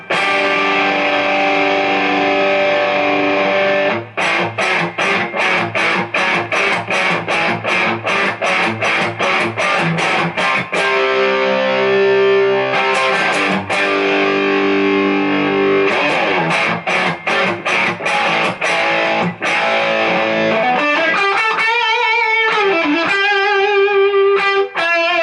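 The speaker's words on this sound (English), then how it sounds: "Now everybody will want to hear some nice raunchy gain" A 2016 Gibson Les Paul Studio electric guitar with heavy distorted gain plays loud, punchy palm-muted rhythm chugs in tight bursts, then sustained chords and a wobbling bend near the end, with no talking.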